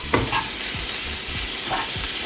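Tomatoes and basil cooking in a frying pan, a steady close sizzle with a few light stirring knocks and scrapes.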